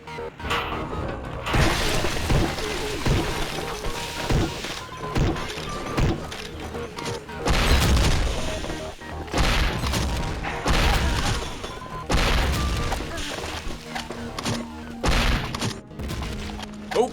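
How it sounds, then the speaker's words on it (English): Grenade launcher explosions from the shooter game Hedon crash and thud repeatedly at moderate volume, interspersed with shattering impacts and continuous game noise. "so let's stick with our grenade launcher here."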